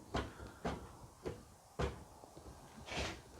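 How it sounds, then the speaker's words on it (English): The door of a 1972 MG Midget with a rotten, loose hinge knocks and thuds as it is moved, about five distinct clunks spaced unevenly, fairly quiet with no talking. "I've got to admit, I do think that door hinge is moving"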